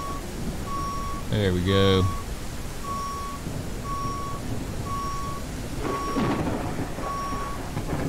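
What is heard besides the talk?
fire truck reversing beeps in video game Into the Flames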